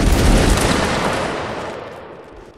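A massed musket volley fires in a Napoleonic-era battle game at Waterloo, one loud crackling burst of overlapping shots at the start that decays into a rolling echo and fades out.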